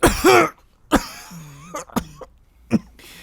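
A tabletop role-player voices a character named Moof coughing: a harsh throat-clearing burst, then several short, separate coughs spread out with brief pauses, close to the microphone and alone, the voice imitating the sound.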